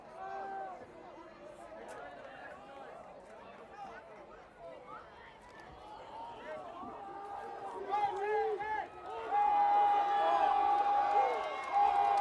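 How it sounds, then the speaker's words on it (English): Home crowd at a Marlborough high school varsity football game against Doherty rises into sustained cheering and shouting, steady chatter building to a louder roar with a whistle-like tone near the end, all under continuous play-by-play commentary. "Marlborough crowd comes alive"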